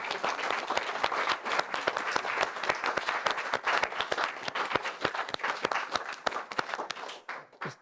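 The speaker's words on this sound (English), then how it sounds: "I think he deserves a round of applause." A room full of people gives a warm round of applause, fairly quiet and distant, with irregular hand claps rolling on for several seconds before tapering off.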